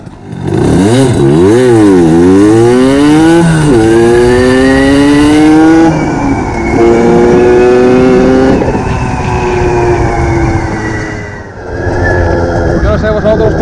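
A Derbi motorcycle fitted with a fatter Metrakit exhaust pulls away from a standstill, its engine loud and close, revving up through rising pitch sweeps and gear changes before easing off near the end.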